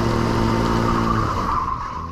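Go-karts set off on a formation lap at a karting race, heard up close from onboard a kart. A loud, buzzing engine drone rises briefly in pitch.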